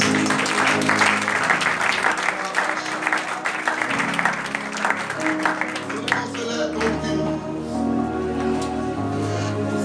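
Church congregation applauding and cheering during a Christmas service, sustained dense clapping mixed with voices and music for the whole stretch, fairly loud and continuous.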